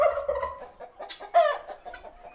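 Loud clucking and chattering guinea fowl and turkeys nearby on a farm, with a brief harsher gobbling call in the middle, overlapping bird calls throughout.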